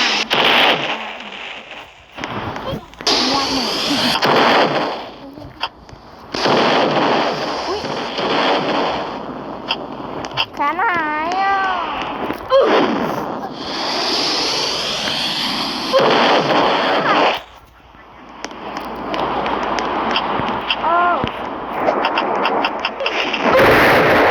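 RPG rocket launcher fire in a video game: loud whooshing blasts and explosions recur over the span, with gaps between bursts and voices talking over the action.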